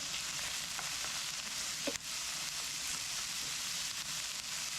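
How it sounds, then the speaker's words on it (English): Oil added to a pot of vegetables including leftover pepper, giving a continuous bright sizzle with a single stir near the middle, moderately loud and steady. "Let's add a little bit of oil and stir our pot up."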